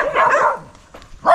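A dog near a house on a hillside trail gives two short barks or yips close by, the first longer and the second clipped at the end, with no clear talk.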